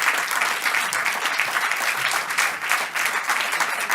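Audience applause at the Guztiok Mugituz award ceremony in San Sebastián, a steady, dense clapping from a sizeable crowd that holds evenly for the whole stretch without any voices on top.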